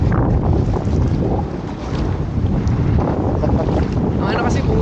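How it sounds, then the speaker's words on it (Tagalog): Strong wind buffets the microphone steadily during an open tuktuk ride toward the Dipalo River in San Quentin, Pangasinan, a loud continuous roar with faint voices underneath. "Ano kasi bumubugad yung hangin yan."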